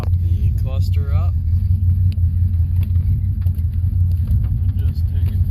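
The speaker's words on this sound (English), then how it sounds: "take it for a short drive around the block" A car fitted with newly installed aftermarket O2 sensors drives around the block, its engine and road rumble a steady loud low drone inside the cabin, with someone speaking briefly over it.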